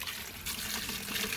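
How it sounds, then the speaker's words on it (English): Garden hose water pouring into a bucket to fill it to the top, a steady close rushing splash that continues throughout with no talk. "fill this bucket all the way to the top with water"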